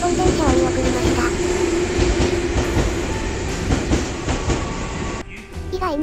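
A Japanese train rumbles past a station close by at night with loud rolling clatter and squealing wheels, the noise easing slightly near the end.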